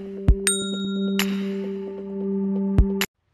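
A notification-style bell rings with bright metallic dings over a sustained ringing tone. Several strikes come in quick succession near the start, then two more near the end, before sudden silence.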